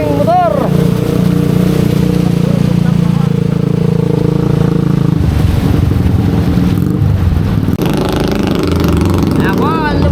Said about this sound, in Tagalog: Ayan na po ang ating motor.